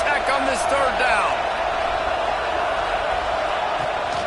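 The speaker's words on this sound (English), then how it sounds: "Guns up, and so is the noise. The crowd electric, trying to help Tech on this third down." A stadium crowd roars loudly and steadily at a Texas Tech football game on third down, a continuous wash of cheering under a commentator's voice.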